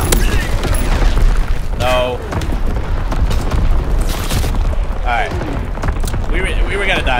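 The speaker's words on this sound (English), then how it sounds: "Incoming enemy artillery. Get to cover." Incoming enemy artillery shells burst in a Call of Duty WW2 multiplayer match, loud booming blasts and rumble running throughout alongside gunfire and in-game voices, with a player speaking briefly.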